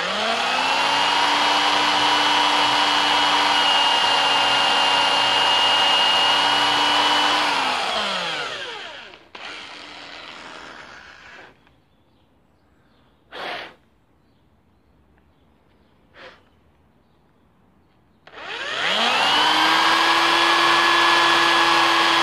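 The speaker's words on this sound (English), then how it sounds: "See the end of the drill bit's just getting clogged up" A power drill bores into a wooden log with a clogging bit, whining loud and steady before winding down, then a quiet gap with a couple of brief scrapes, and the drill revs up again at the end.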